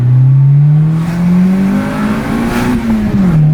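A Honda car engine revving hard with VTEC engaging, a loud, close, sustained tone that climbs steadily in pitch, then dips briefly at the end.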